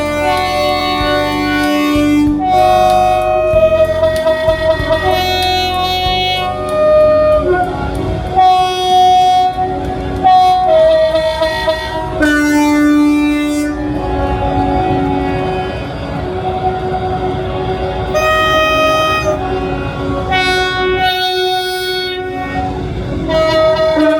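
A loud full-length 11-coach Avanti passenger train rumbles past with drawn-out horn blasts sounding over it, several overlapping and sustained, steady and close throughout.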